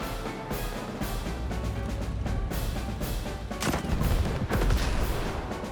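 Artillery fire in the Advance Wars 1+2: Re-Boot Camp video game: a dense run of booming, crackling shots over nearly six seconds, loud and continuous with sharper blasts toward the end.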